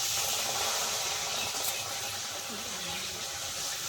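A little water pours into a wok to melt jaggery, giving a soft steady wash of hissing, splashing liquid close by, fairly even throughout, with no talking.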